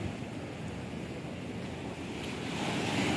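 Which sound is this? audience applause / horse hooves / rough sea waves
rough sea waves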